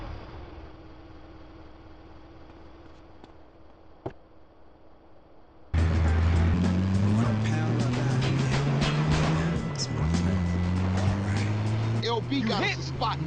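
In GTA San Andreas, a car starts off after a quiet stretch with a faint click, then its engine roars up loud with rising and falling revs as it drives away, with speech over it.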